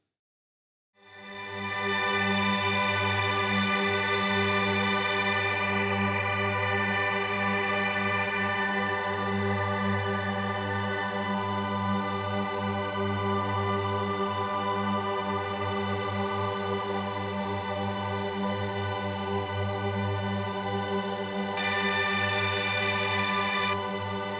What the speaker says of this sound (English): I'm just going to play one chord, hold it down, and show you some creative ways of EQing.